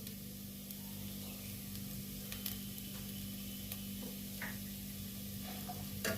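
Food frying quietly with turmeric and black pepper powder, a soft continuous sizzle with a few faint ticks of stirring in the pan.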